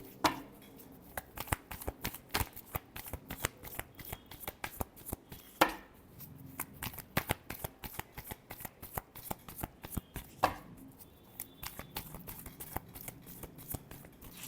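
A deck of tarot cards being shuffled up close, rapid crisp riffling flicks in dense bursts with two sharper slaps where the deck is squared, no talk.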